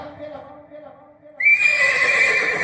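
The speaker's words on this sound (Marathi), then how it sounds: "घोड्यांच्या ताफा" A loud, shrill horse whinny bursts in partway through, following a quieter stretch of voices and low rumbling.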